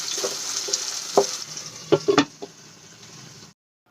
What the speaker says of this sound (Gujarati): ડુંગળીને આપણે સરસ રીતે લાલ થાય ત્યાં સુધી સાંતળી લઈશું